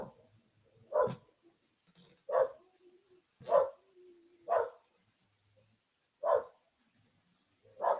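Dogs just outside an open door bark in separate single woofs, about six spaced barks over several seconds, fairly close and clear against a quiet night background.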